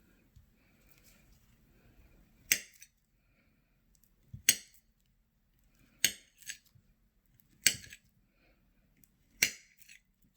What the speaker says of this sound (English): let's cut up this banana into slices.